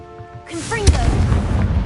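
A Confringo fire spell goes off in Hogwarts Legacy. A rising whoosh builds into a sharp, loud blast, and heavy rumbling and crackling follow close by.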